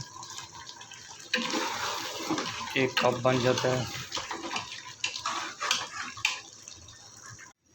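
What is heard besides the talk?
water being poured into a pot for beef paye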